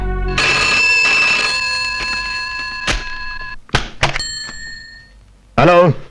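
A telephone bell rings loudly for about a second, then fades into a few knocks and thumps before a brief voice.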